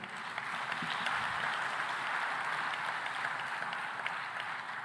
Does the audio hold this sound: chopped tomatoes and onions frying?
no